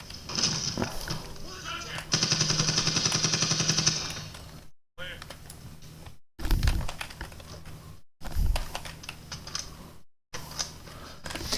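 Gunfire in the 2010 Medal of Honor shooter game, a dense burst of rapid automatic shots followed by sharp separate blasts, likely shotgun, with game ambience and someone talking in between.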